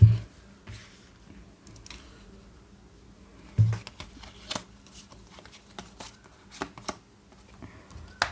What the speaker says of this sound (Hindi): हम कुछ और कार्ड्स लेते हैं आपके लिए